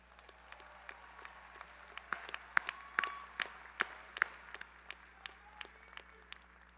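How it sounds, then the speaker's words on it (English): Graduates applaud at a college commencement ceremony, with scattered claps coming from a crowd in a large, reverberant space, moderately faint and steady for several seconds. "Give yourself a round of applause."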